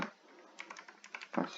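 Keys clicking in short irregular bursts as a Linux command is typed on a computer keyboard, faint and close, with a quicker cluster of keystrokes near the end.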